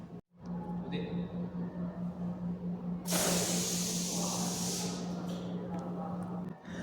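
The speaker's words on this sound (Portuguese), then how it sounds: "usei um prendedor para poder soltar o ar do balão" Air rushes out of a released balloon in a Newton's laws classroom experiment, a loud sustained hiss lasting about two seconds that fades out over a low steady hum.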